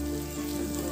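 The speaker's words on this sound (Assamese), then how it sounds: "এইখিনি এতিয়া মই ভাজি আছো অলপ টাইম এনেকৈ ভাজি থাকিব লাগিব" Pulao ingredients fry with salt and sugar in a kadai, giving a steady, close hiss with a constant drone underneath.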